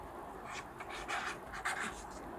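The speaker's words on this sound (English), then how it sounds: "you write your full name on the paper" A pen writing on a piece of paper, giving soft close scratchy strokes in short irregular bursts over faint room noise.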